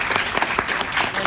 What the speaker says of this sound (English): So round of applause for Mark